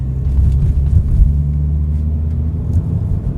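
Steady low rumble from inside a car fitted with an S85 V10 engine and DCT gearbox in normal driving, a smooth constant loud drone with no clear revving.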